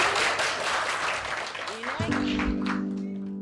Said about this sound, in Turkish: Bunun için arkadaşlarım için bir alkış rica ediyorum